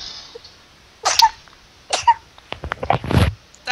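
Two sharp, close bursts like sneezes or coughs a second apart, followed by a cluster of throaty, rasping sounds, with quiet gaps between.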